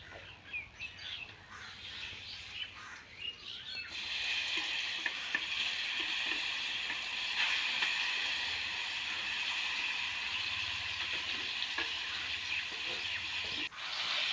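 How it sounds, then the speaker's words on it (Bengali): Boiled olives frying in mustard oil with five-spice for pickle, a quieter start with faint stirring giving way to a steady close sizzle with scraping, birds chirping faintly in the background. "জলপাইটা দিয়ে দিলাম এবার এটাকে পুরো আধ ঘন্টা মতো রান্নাটা করে নিতে হবে ভালো করে নেড়ে চেড়ে ভাজা ভাজা করতে হবে"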